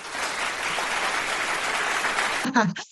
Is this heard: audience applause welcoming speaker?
yes